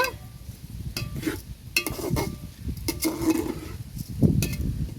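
Meat for khichuri being stir-fried in a pot, with close metal-on-metal scraping and clinking of a spoon against the pot over a steady low sizzle, in irregular bursts throughout.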